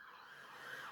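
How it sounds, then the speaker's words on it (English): An ambulance siren drifts in from outside, a faint distant wail that slowly rises in pitch as it goes past, alone and with no talking. "It is an ambulance."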